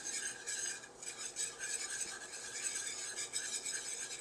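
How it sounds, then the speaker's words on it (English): Flour being whisked into melted butter for a roux, a steady scraping, swishing rasp of a whisk against a pan that runs continuously throughout, fairly close and with no talking. "And we're going to whisk that into the butter."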